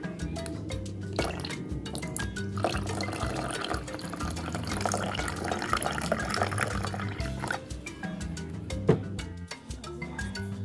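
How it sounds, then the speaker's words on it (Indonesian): Water trickles and drips into a container while being poured for a simple painting, a continuous close splashing flow with small droplet sounds. "Dan bisa kita tuangkan lagi air."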